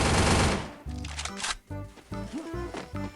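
Rapid bursts of gunfire from an MP5 and other guns in the Free Fire video game, sharp cracking volleys separated by short gaps, with game sound effects and a brief voice in the background.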